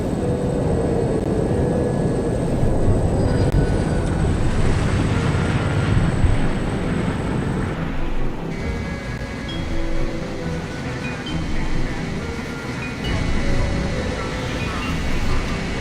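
Inside a plane in the No One Lives Forever video game, a steady engine drone and cabin rumble fills the space, shifting in tone partway through, with voices speaking over it.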